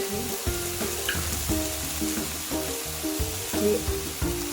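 Fenugreek (methi) leaves fry in a hot pan for a home-style methi fry, giving a steady close sizzle with intermittent stirring scrapes and clinks throughout, with no voices.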